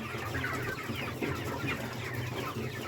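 Broiler chickens cluck and peep in a brooder, a dense, continuous flock chatter heard close up with no talking.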